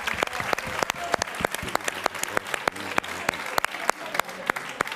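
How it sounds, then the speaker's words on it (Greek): Applause from a Greek TV talk show's studio audience, with sparse, distinct claps in an uneven rhythm spread over a light crowd murmur, moderately close and never loud. "δεν πειράζει, δεν πειράζει. Χειροκρότημα."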